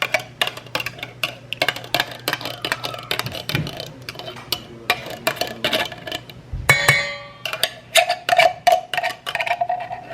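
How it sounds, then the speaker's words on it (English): A utensil scraping coconut cream out of its container into a pumpkin mixture, close, repeated sharp taps and scrapes against the container in quick bursts, with a brief clatter partway through. "And get all the coconut cream out."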